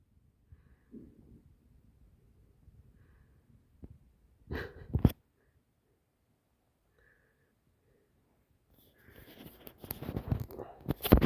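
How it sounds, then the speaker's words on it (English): A puppy snores softly with faint, rhythmic breaths, then gives a short louder snort burst midway; after a quiet gap, louder snuffling, rustling noise closes the sequence. "Snoring well."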